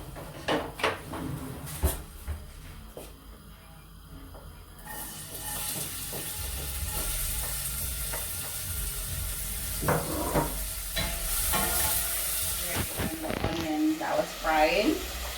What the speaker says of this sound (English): I'm gonna fry that in the oil now